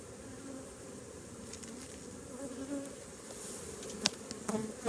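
Honeybees buzz steadily around an open hive during an inspection, a close, continuous drone with a few sharper passes near the microphone.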